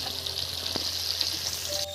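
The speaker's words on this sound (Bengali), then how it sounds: "ভাজা হয়ে গেছে" Pieces of a large 7 kg sea fish fry in oil with a soft, even sizzle and occasional light crackles, brief and fairly quiet, with no speech.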